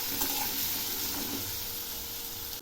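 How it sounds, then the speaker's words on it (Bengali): Eggplant pieces sizzle and fry steadily in a hot pan, a continuous close hiss with light crackling throughout and no voices. "এই বেগুনগুলো খুব ভালো করে ভেজে নেব"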